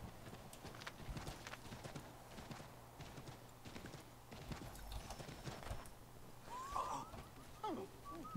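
Horse hooves clip-clop at a steady walking rhythm in the video game Assassin's Creed III, moderately close over a low ambient hum, with a brief whinny-like sound near the end.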